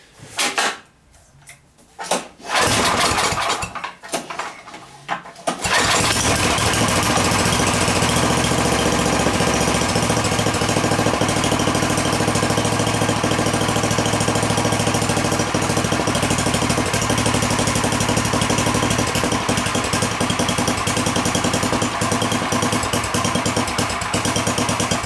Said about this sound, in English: So we're going to bring her up to operating temperature, then I'm going to settle idle all the way down, and at that point she idles great.